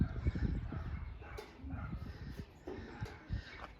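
A puppy barks and yips in short, irregular bursts at a middle distance, mixed with scuffling and background noise around a garage during a home inspection.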